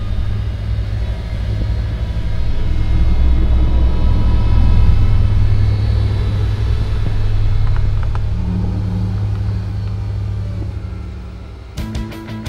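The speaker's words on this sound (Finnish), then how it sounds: "Tässä Suomessa valmistettu Valtra T234, meidän uusin malli, suunniteltu pohjoisiin oloihin" A Finnish-built Valtra T234 tractor runs at high speed, over 130 km/h, along a ploughed snow track. Its engine gives a loud, steady, deep rumble that eases slightly toward the end.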